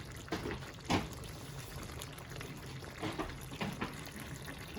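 A little water poured into chicken curry with green pepper simmering in a pan, producing soft trickles and splashes over a low bubbling, with a few brief louder splashes.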